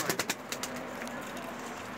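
Tumbler pigeons coo softly inside a coop, a low steady murmur with a few brief rustles or flutters near the start, faint and continuous throughout.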